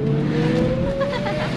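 A Ferrari engine revs under faint voices, its steady pitch climbing slowly across a brief, loud burst with a continuous drone throughout.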